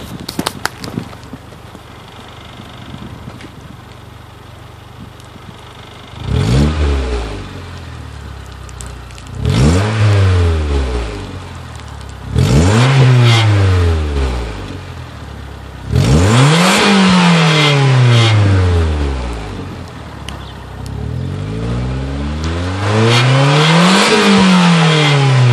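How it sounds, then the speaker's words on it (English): A Mazdaspeed Protege with its factory exhaust is revved hard several times after a quiet idle, each blip climbing and falling in a loud, close swell with crackle between, the later revs longer and sustained. "Let me let you listen to the exhaust here."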